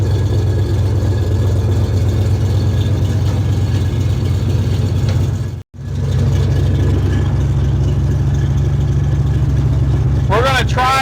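A 1972 Chevrolet Chevelle that sat unused for five years idles close by with a steady, throaty rumble. The sound cuts out briefly midway, then the engine carries on with a faint squeal near the end.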